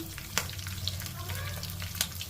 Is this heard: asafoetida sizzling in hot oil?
yes